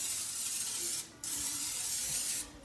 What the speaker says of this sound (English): with our griddle, hopefully nice and hot, I'm gonna put a little spray on.